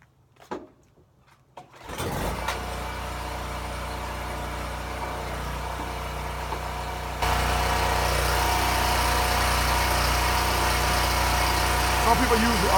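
A motor starts after a brief shuffle, then a blower drying a car after detailing runs with a loud steady roar that steps up louder partway through.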